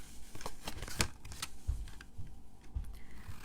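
Scissors snip and rustle against a paper card box being trimmed, a quiet, close series of irregular crisp cuts and shuffles with no talk.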